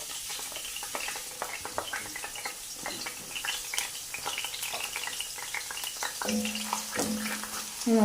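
Small onions fry in hot oil, a soft, continuous sizzle and crackle with scattered pops, close by. Near the end come a few clinks of a utensil against the pan, and no one speaks.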